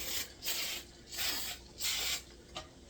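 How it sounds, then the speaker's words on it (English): Cooking spray hisses onto metal muffin pans in four short bursts, each about half a second, separated by brief pauses, close and clear. "I'm going to spray these real good."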